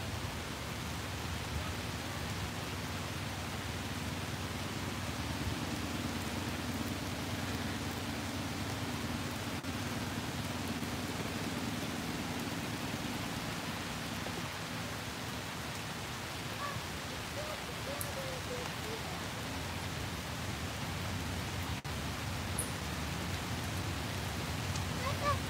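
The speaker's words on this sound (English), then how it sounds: "I'm staying here under the trees, more or less protected from the rain." Steady rain falls on the trees of Moscow's Gorky Park, a dense, even hiss with occasional drips, lasting throughout and heard from under the canopy.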